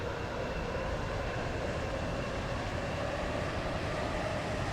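Metro train running along the line in a video game, a steady broadband rumble and rolling hum that holds level throughout, with a brief click near the end.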